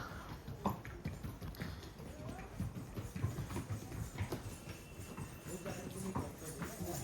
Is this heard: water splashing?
no